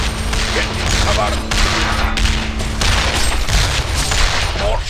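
Rapid video-game gunfire from Heroes of Newerth, dense overlapping bursts of shots and booms running steadily through the whole stretch, loud and close, with game voices occasionally heard underneath.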